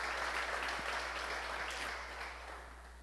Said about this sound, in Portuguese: Quantos podem aplaudir Jesus por isso?